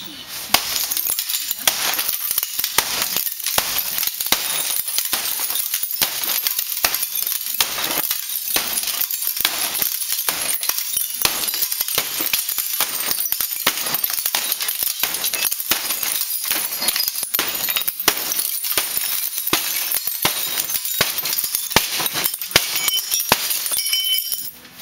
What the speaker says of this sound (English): I'm going to apply a hammer to the additional pieces of the window